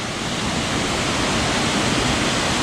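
A waterfall at the Blue Hole swimming spot roars in a constant, dense rush of falling water, loud and close with no other sounds.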